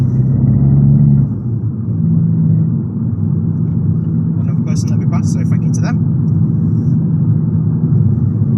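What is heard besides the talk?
sports exhaust of car driving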